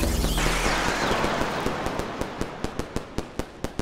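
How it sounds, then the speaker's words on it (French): Video game firecracker sounds: a rapid burst of sharp explosive cracks, then evenly spaced loud bangs, one every few tenths of a second, with no talking. "Ah, mais le pétard, il est là."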